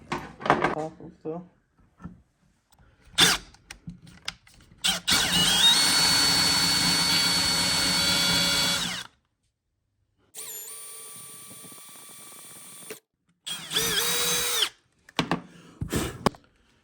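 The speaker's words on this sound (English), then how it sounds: "now we'll drill our bigger hole to the exact size of this gasket" A power drill whines steadily for several seconds while drilling a large hole in a kayak for a plug, then runs again in shorter bursts after pauses, with clicks and handling noises between runs.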